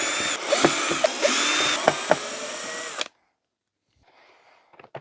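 Power drill unscrewing the lower cover of a cheap Anko vacuum cleaner: several short whirring bursts with a ratcheting edge for about three seconds, close and loud, then near silence with a few faint clicks.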